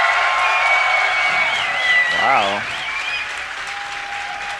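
Crowd at a DreamHack Summer StarCraft esports tournament, round of 16, applauding and cheering loudly and steadily throughout, with a brief voice exclaiming over the noise.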